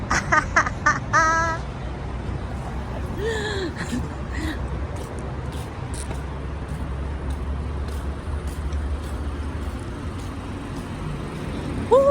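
Street traffic rumbles steadily outdoors in Khobar, with a bus heard among passing vehicles, a brief hiss like air brakes near the start and a few faint chirps and tones over the continuous roadway drone.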